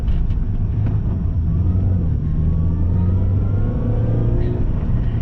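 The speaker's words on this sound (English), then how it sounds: "if you're hearing the supercharger, it means it doesn't need to be replaced" A supercharged 2005 Mini Cooper S JCW engine revs on the move, a thin rising whine climbing above the steady mid-range engine drone and road rumble.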